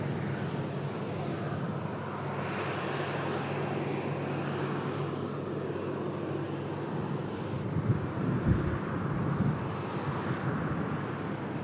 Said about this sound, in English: Aircraft about to touch down. Ryanair.